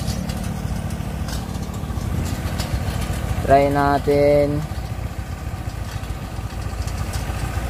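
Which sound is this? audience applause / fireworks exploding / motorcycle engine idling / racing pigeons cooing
motorcycle engine idling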